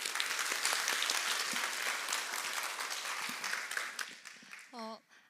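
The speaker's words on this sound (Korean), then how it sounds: "한번 박수로 한번 환영해 주시죠" Applause from a church congregation at a Sunday worship service welcomes a speaker, steady dense clapping for about four seconds that fades out, then a single voice briefly speaks.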